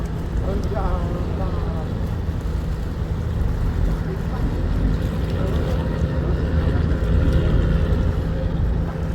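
A tugboat tows a cargo boat through a river junction with swirling currents, its engine a steady low drone that holds for the whole stretch, with a voice talking over it.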